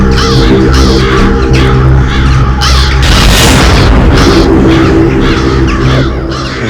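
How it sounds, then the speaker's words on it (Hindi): Loud, repeated crow caws in quick succession over a heavy droning background, with a burst of noise partway through. "इतने सारे कौवे इस वक्त?"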